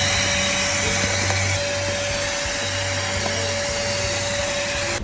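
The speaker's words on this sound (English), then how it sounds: "when you're done drilling, all you have to do is turn on the vacuum" A Hilti dust vacuum runs continuously, sucking up drilling dust with a loud, steady whirring roar and a constant hum, close by, with no speech over it.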